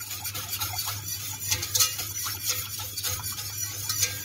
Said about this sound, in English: And I will whisk